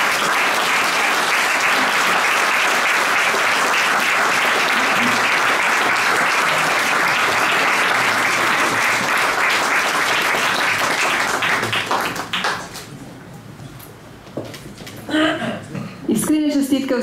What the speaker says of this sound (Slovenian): Sem z naše strani še en aplavz